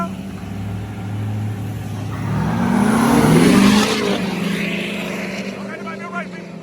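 A Ford F250 and a Chevrolet Duramax diesel truck rev against each other, a loud, rough engine roar that swells to a peak in the middle and then eases back, with excited voices shouting over it.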